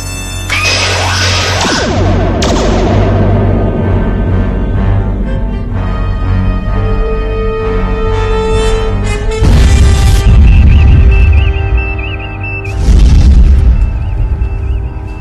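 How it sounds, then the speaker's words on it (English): Photon torpedoes fire and explode in a Star Trek space battle, with loud booming blasts, whooshing launches and tonal sci-fi effects that surge repeatedly over a rumbling cinematic score. "Photon torpedoes. Broadest possible spread."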